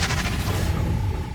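The Confringo spell cast in the Hogwarts Legacy video game gives a loud, dense burst of fiery crackling and rumbling blasts. It sounds close and continuous, with no voices over it.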